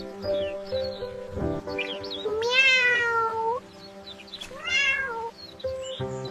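A cat meows several times in a quiet garden setting: a few short calls, then two long drawn-out meows a couple of seconds apart, fairly close and clear.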